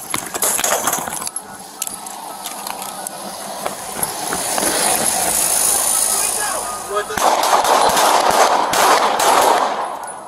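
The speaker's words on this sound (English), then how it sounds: "Shots fired, Central. Shots fired." Gunfire erupts during an NYPD bodycam-recorded shootout with a Bronx armed robbery suspect, a chaotic stretch of sharp cracks and rapid bursts over harsh noise and shouting voices.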